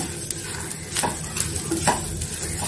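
Masala with dried red chillies roasting in a pan, soft sizzling under repeated scraping stirs of a spoon against the metal, close and steady with a few sharper clinks.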